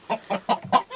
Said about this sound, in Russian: Так, куры, петухи не хотят выходить.